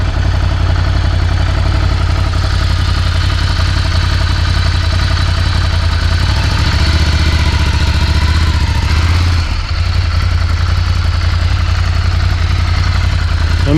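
A Ducati Scrambler motorcycle engine idles and runs loud and close, a steady low throbbing rumble that shifts slightly in pitch near the end, with wind noise over the microphone.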